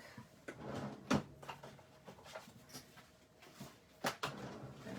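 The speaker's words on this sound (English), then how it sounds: "Out of my drawer, my scrap drawer." A scrap drawer for cardstock being opened, with a couple of sharp wooden-sounding knocks and slides, then a softer rustle and another clear clunk near the end, close by in a quiet room without talk.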